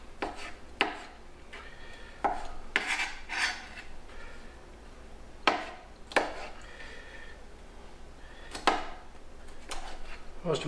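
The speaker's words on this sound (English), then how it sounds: "So I'll just finish dicing this stuff up." Kitchen knife dicing leftover Thanksgiving turkey for salad on a cutting board, a run of close, sharp chops and scraping taps in uneven bursts with no voice over them.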